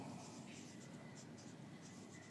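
Pen or chalk writing during a reinforced concrete design lecture, heard as steady soft scratching strokes over a constant room hiss with no voices.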